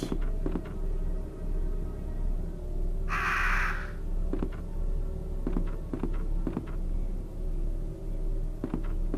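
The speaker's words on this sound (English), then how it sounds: "I imagine that crow's gonna try to kill me" A crow gives a single harsh caw in the PS1 survival horror game Resident Evil 2, heard once over a steady low ambient rumble with scattered soft taps and footsteps.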